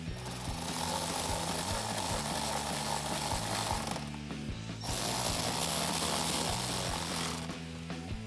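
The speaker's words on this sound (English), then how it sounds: "Once you've got them started, I'm just gonna take my ratchet." A hand ratchet tightens a T15 bolt on a 2007-2016 Chevrolet Silverado or GMC Sierra 1500 during a throttle controller install, making rapid, close, loud clicking in two long bursts separated by a brief pause.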